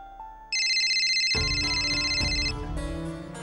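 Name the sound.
phone ringtone, Raghu calling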